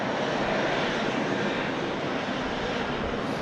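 A Boeing 777-200 freighter at Sydney Airport makes a loud, steady broadband jet roar, sustained without pause at close range.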